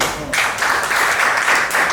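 Applause during an online COVID-19 solidarity talk, dense scattered clapping that starts abruptly after a brief quiet moment and carries on steadily and fairly loud, with no voices over it.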